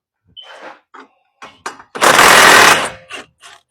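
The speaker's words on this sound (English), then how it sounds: "I might want to get a wrench on that real quick before I wear out my fingers" Subaru Ascent strut bolts of 19 mm being worked loose with a wrench, a series of short, sharp ratcheting clicks and bursts, then one longer loud grinding rattle before more brief ticks, close and alone.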